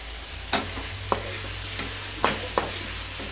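Shrimp heads hit a hot pan of sautéed chayote with a soft sizzle, joined by several sharp scrapes and clacks of a utensil stirring against the pan over a steady frying hiss.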